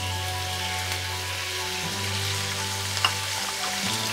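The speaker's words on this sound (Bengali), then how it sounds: "তেল গরম হয়ে গেছে, আমি এখন তেলের মধ্যে চিংড়ি মাছগুলো ঢেলে দিব।" Shrimp frying in hot oil in a pan for a shrimp and squash curry; a soft, steady hiss of sizzling over a low hum, with a single small pop near the end.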